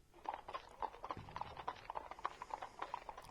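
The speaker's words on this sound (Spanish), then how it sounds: "el caballo se puso a andar de nuevo." Horse hooves clip-clopping at a steady walking rhythm, evenly spaced hard knocks close up over a soft background, used as a story sound effect.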